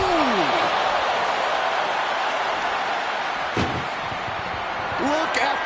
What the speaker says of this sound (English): They slammed the door.